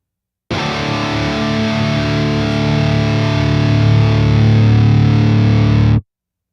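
Distorted electric guitar through a multi-band noise gate, a single thick sustained chord ringing loud for about five seconds, then cutting off abruptly into silence.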